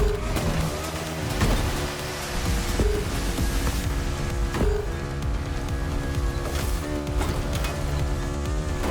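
BMW Z4 M40i roadster in The Crew Motorfest, a steady engine drone with tonal harmonics and shifting pitch, joined by road and tire noise and brief whooshes, continuous and fairly loud with no talking.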